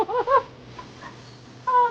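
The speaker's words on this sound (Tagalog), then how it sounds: "Ayan na yung manok." Short clucking calls from a chicken, a quick burst at the start, a quiet gap, then another cluck at the end, fairly close.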